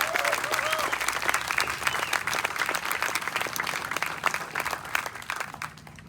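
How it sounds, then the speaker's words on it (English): Steady applause from an audience of nearly 400 at an outdoor evening steel pan concert, a broad wash of clapping that fades slightly near the end, with faint voices underneath. "we want to give them a round of applause for their braveness here to be out here tonight in front of this"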